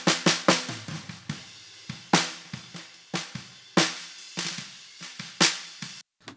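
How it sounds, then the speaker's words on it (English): Unprocessed bottom snare drum microphone track: sharp, close snare hits in an irregular groove, each with bright rattling snare wires and a quick decay, some louder accents among softer ghost strokes, no talking. "then we've got the bottom snare, which sounds like this beforehand."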